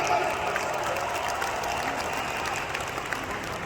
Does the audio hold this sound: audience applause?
yes